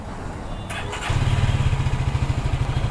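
A Jawa Yezdi Scrambler motorcycle engine starts after a quiet moment and settles into a close, steady, thumping idle rhythm.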